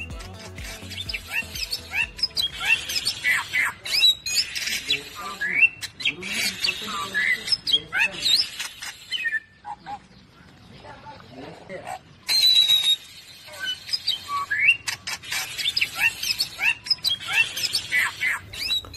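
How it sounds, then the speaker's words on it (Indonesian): A Bali starling sings loud, dense runs of chirps, squeaks and clear whistles almost nonstop, broken by a brief lull midway before resuming just as busily. "burung jalak Bali juga memiliki suara yang keras dan juga cukup merdu"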